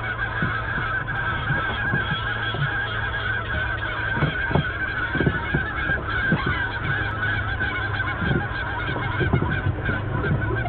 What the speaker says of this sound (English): So basically, all gooses sound the same.